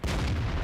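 A tank shell landing a critical hit in World of Tanks, a single loud, deep boom with a heavy low rumble that fills the whole moment, close and alone.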